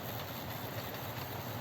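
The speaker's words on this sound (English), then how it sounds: "13 trains all running at the same time" Several model railway trains in a 1960-61 era layout run at once, giving a steady, quiet low rumble with faint rolling wheel clatter and no voices.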